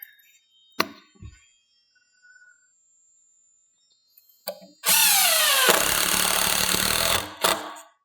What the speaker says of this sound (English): I'm just going to go ahead and screw the top into place first